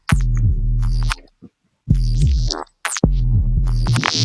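Loud layered neuro bass with a high-passed, growly top layer over a deep low end, hitting in three heavy sustained bursts separated by short gaps and clipped tails.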